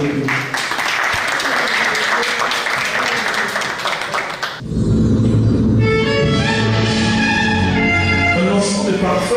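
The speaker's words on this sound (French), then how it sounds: "Est-ce qu'on peut applaudir cette initiative de Réna Florence?" Audience applause at a perfume launch press conference, dense clapping for several seconds that cuts off abruptly and gives way to music with talk over it.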